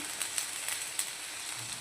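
Marathi-style phodni tempering for dhokla sizzling in a small pan, a continuous soft crackling hiss with faint pops, close up and with no voices.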